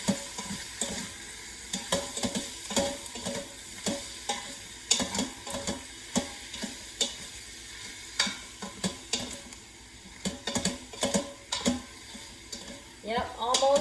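Venison chunks sear and sizzle in a hot pot for a stew, with a steady frying crackle and repeated scrapes and clinks as the pieces are stirred and turned.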